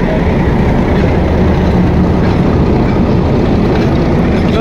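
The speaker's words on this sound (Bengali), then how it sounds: "একদম বাজারের মাঝখান দিয়ে কিন্তু একটি ট্রেন চলে যাচ্ছে।" A train running through the middle of a rural village market beside the rail line in Gazipur, Bangladesh, a loud, steady, dense rumble and rattle close by without a break.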